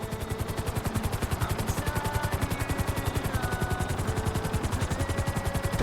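A helicopter flies at full speed in Grand Theft Auto V, its rotor pounding out a fast, even, loud chop that continues through the whole stretch.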